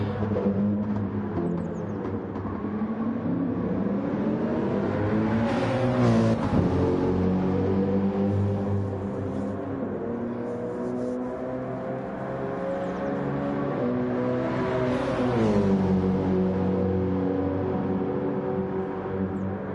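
Racing car engines, including a Toyota Supra, roar through a sim racing event at La Sarthe, loud and continuous, pitch climbing and dropping with gear changes as the cars battle closely.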